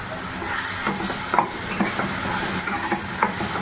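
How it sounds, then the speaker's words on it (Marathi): Coconut, peanut and chili masala sautés in peanut oil, a steady close sizzle and hiss with soft spatula stirring scrapes breaking through now and then. "परतून घ्यायचा आहे तेलामध्ये छानसं"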